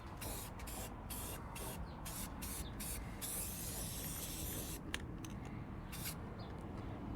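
Short bursts of hissing spray from a spray paint can, repeated in quick pulses, then a longer continuous spray, close and fairly quiet.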